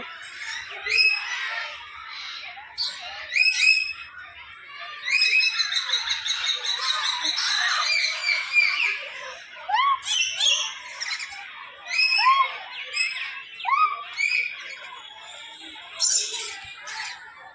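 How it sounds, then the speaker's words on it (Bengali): Many birds of different species squawk and call at a mini zoo at Eco Park in New Town, with overlapping bursts of chirps and squawks, fairly near and continuous, without speech. "দেখুন সব পাখি ডাকছে"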